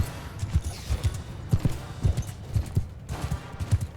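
Horse hooves galloping in the video game Mount & Blade II Bannerlord during a battle: a rapid, steady run of close, thudding clip-clop beats that keeps going without a break.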